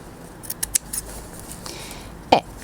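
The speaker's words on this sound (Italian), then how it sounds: "Taglio con le forbici" Scissors cut through trouser fabric with a few sharp snips spread across the moment, followed by one louder, crisper snip near the end, close up in a quiet room with no talking.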